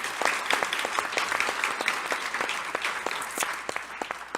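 An audience at a healthcare roundtable applauds to welcome a congressman, a steady, dense wash of clapping sustained throughout, fairly close and alone without talk.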